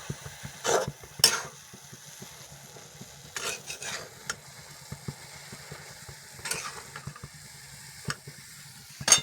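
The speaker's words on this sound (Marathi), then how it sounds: "आता सर्व व्यवस्थित कालून घेऊ आपण मसाला पूर्ण लागून जाईल त्याला" Dill greens with masala are stirred in a pan, giving soft scraping and clinking strokes at irregular intervals over a low, faint sizzle, with no voices.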